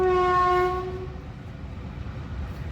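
A train horn blares briefly, then the heavy rumble and rattle of a train rolling past on tracks beside a capsicum farm continues steadily, with no talking.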